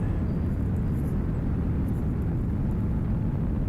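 An E-Flite Extra 330 1.3 m RC plane flying at full throttle in windy conditions, heard as a steady droning motor roar with wind rumble, distant and continuous, with no talk.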